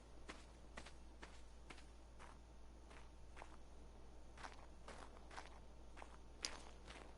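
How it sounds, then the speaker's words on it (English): Footsteps in the video game Ark: Ragnarok, a steady run of soft crunchy steps on ground at an even walking pace, fairly quiet over a low background hum, with one sharper click near the end. "I genuinely hate the footsteps in this game."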